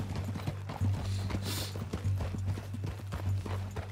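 Horse hooves clip-clop in a steady trotting rhythm in Red Dead Redemption 2, close and continuous over a low droning hum, with a brief whinny partway through.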